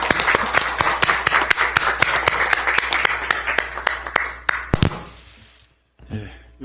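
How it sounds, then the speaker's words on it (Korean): Audience applause welcoming lawyer Kim Nam-geun at a Democratic Party recruitment event, loud and steady for about five seconds with sharp individual claps standing out, then fading into near silence and a brief murmur. "여러분 힘찬 박수로 맞아주십시오."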